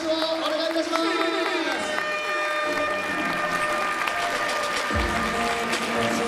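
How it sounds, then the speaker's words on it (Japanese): Stadium crowd applauding the mascot Doala at a ballpark event, broad clapping and cheering spread across the whole stretch, mixed with ringing musical tones and PA sound, fairly loud and continuous. "ドーラに大きな拍手をお願いいたします。"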